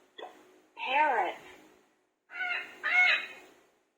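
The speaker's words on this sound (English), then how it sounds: "Parrot." A children's card-reading education device plays a parrot call: two short bursts of harsh, squawking bird calls with a pause between them, clear and close.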